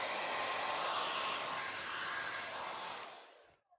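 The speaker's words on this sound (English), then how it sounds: "Let me see if I can use a hair dryer and then." A hair dryer blowing hot air around a boat model, a steady close whooshing roar that holds for about three seconds and then winds down as it is switched off, with no talk.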